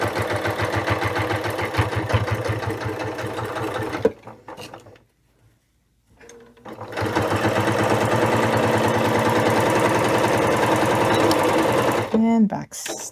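A sewing machine stitches a Christmas stocking in a fast, steady mechanical whirr, stops for about two seconds, then runs again before a brief back stitch, close and loud.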